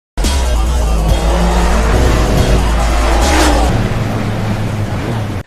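Two sport motorcycles race down an empty night street, their engines roaring loudly and continuously with rising revs and a passing surge, close and dominant from start to finish.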